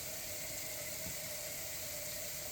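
Water runs steadily as houseplants are rinsed, a constant even hiss of flow with no pauses, fairly faint and uninterrupted.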